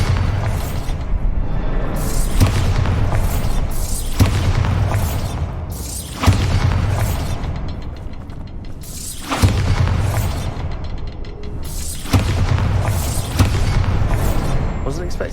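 Bombarda explosion spells cast in Hogwarts Legacy, several loud booming blasts landing every few seconds over a dense, rumbling game soundscape with a recurring thud and shattering crackle.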